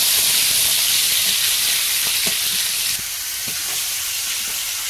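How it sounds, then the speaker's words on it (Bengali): Pieces of river fish sputter and sizzle in hot oil in a pan, a loud steady hiss broken by sharp popping crackles that ease slightly toward the end. "মাছ তো খুব ফাটছে, এখন ঢাকা দিতে হবে।"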